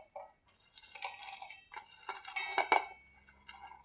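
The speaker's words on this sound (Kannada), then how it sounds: "ನಾನು ಎಲ್ಲನೂ ಈ ಜಾರಿಗೆ ಹಾಕ್ಕೊತೀನಿ ನೋಡಿರಿ" Cumin, curry leaves, coriander, green chillies, garlic and ginger are dropped into a mixer jar, producing light clinks, taps and rattles of pieces and utensils against the jar, close and fairly quiet in short irregular bursts.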